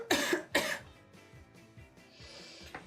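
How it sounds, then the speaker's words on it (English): Two loud, sharp coughs in quick succession close to the mic, followed by quieter throat noises and a brief breathy hiss near the end. "I really need to have a good cough"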